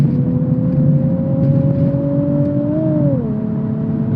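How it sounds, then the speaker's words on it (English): Nissan 370Z NISMO engine droning steadily from inside the car, its revs holding then dipping as it shifts up a gear, loud and continuous with no talking. "when I'm upshifting, as you saw right there and previously, the revs actually go up more"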